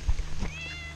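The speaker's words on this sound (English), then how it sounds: "Told you there's a cat." A frightened stray cat near a lake gives a single drawn-out, high, wavering meow, close by, after a few low thumps and rustles.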